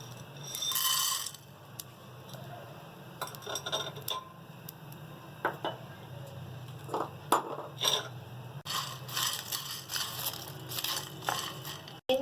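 Whole garam masala spices crackle and pop while roasting in a pan, with scattered sharp crackles and small bursts of sizzle over a quiet low hum.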